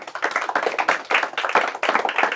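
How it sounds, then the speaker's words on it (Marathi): Steady, dense applause from an audience at a Marathi quiz, with many hands clapping together, near and loud throughout. "त्यांच्यासाठी पण टाळ्या."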